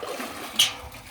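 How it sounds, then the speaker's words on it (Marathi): Water drawn from a small well beside a temple gives a brief splash and trickle in the middle of a quiet outdoor background. "विहिरीतून पाणी काढते"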